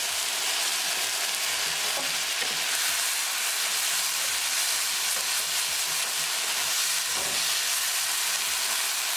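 Onion and tomato sabzi is stirred in a hot pan, a loud steady sizzle with occasional scraping and knocking of the spoon against the pan, no talk.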